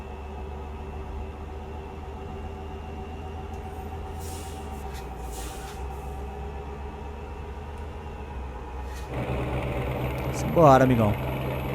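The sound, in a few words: Scania truck with tri-train tanker engine roaring, from a video game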